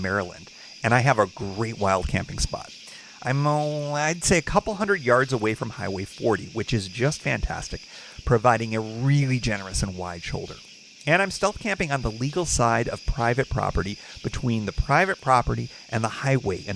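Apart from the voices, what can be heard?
crickets chirping at night in woods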